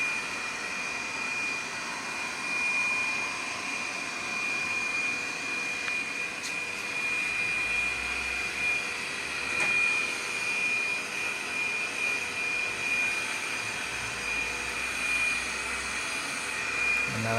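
An AGARO Alpha robot vacuum cleaner roaming a room, giving a steady, close motor whoosh with a thin high whine held throughout and occasional faint bumps.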